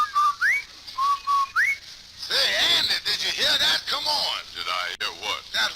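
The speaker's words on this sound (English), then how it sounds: "Did I hear what? That whistle." A slide whistle blown on an old Amos and Andy radio broadcast: short rising and level whistled tones repeat several times, then an actor's voice takes over with sung or talk-like swoops.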